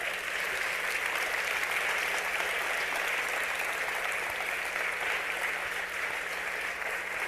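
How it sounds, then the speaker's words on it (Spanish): Sustained applause from a church congregation at a prophecy sermon in Honduras, steady dense clapping that holds evenly for about seven seconds without a pause. "Den un aplauso fuerte al Señor."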